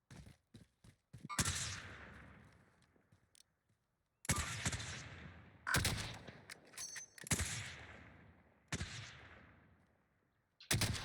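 Call of Duty Warzone gunfire comes in sharp bursts: a few quick early pops, then several loud shots with long ringing decays separated by short gaps, close and forceful with no talking over them.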